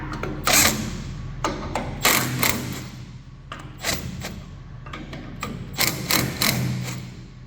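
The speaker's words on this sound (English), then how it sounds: "So what we'll do is we'll just loosen these 4 retainer nuts." Retainer nuts on a ShoulderMaster bucket broom are loosened with a tool, giving a series of sharp metallic clicks, knocks and brief ratcheting bursts with quiet gaps between them, close and alone.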